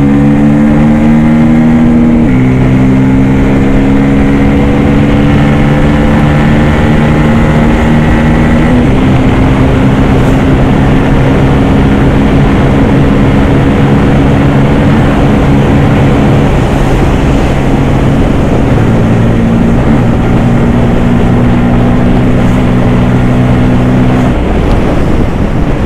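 Bajaj Pulsar N250 motorcycle engine droning steadily at speed on an open road, its pitch climbing and shifting between gears, loud and continuous with heavy wind rush throughout.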